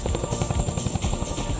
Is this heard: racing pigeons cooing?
no